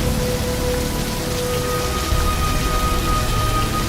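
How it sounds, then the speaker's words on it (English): Steady rain pours down outdoors, a dense, even hiss of drops striking surfaces that stays loud and constant throughout, with no voices. "Come on out of the rain now."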